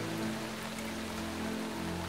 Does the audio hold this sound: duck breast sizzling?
no